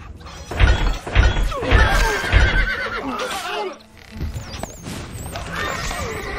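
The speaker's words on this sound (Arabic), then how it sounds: "الحصان سريع" A horse in the Stronghold Crusader desert mission whinnies loudly over several thudding hoof and impact sounds, followed by further neighs and clattering, close and prominent.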